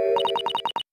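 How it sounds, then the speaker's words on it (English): In The Great Ace Attorney video game, a Morse code-like pattern plays: a sustained tone, then a quick run of about seven evenly spaced electronic beeps that stop abruptly into silence. "Could this sound be Morse code?"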